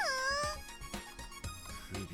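A cat in the visual novel Air gives a rising, then falling meow near the start, followed by several short soft bumps and scrubbing noises.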